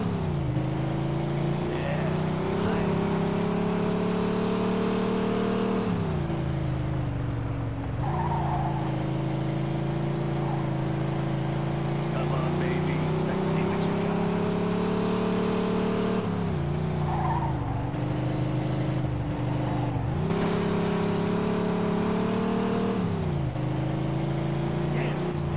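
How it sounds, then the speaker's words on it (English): A speeding car in a police chase in Mafia II roars at a steady high engine pitch that rises and falls with gear shifts, with tires squealing and skidding now and then, loud and close throughout. "In pursuit of a speeding vehicle."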